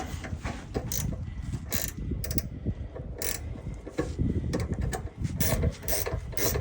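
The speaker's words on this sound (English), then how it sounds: "let's go ahead and get this shock bolt tightened up" Shock absorber bolt being tightened on a Mitsubishi Minicab kei truck, heard as repeated close ratchet clicks in bursts with short pauses between strokes.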